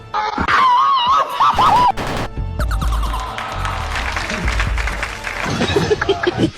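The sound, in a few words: game show audience clapping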